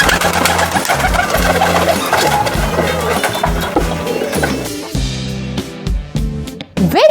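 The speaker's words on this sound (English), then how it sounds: "Yes, it's pigeon." Pigeon cooing in low, soft, repeated hoots with a steady rhythm, fairly close, over a busy background of other sounds.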